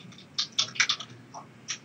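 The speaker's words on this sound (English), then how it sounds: "Who's typing so loudly and chewing so loudly?" Loud, close computer keyboard typing in a burst of sharp, uneven clicks and clacks with short pauses between keystrokes, heard alone without any talking.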